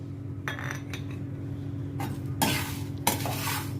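Dried red chillies, black pepper and salt are roasted in a pan, with faint scraping and a few sharper clinks and scrapes of a utensil over a low steady hum, close by and without talk.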